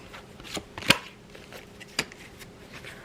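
Goddess Guidance Oracle cards are shuffled by hand, a few quiet riffling and snapping sounds with two sharper card slaps, close and soft against a hushed background.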